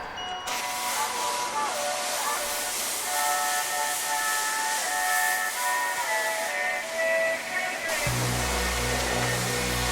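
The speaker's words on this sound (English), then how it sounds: "Let's go and wash this car." Van being washed at a coin-operated car wash, with a loud continuous spray hiss and pump whine that shifts abruptly to a deeper rumbling jet near the end.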